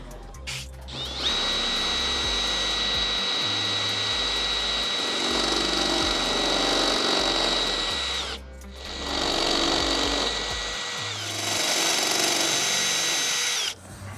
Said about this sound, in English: I just used a step bit followed by a regular drill bit, and we oversized these holes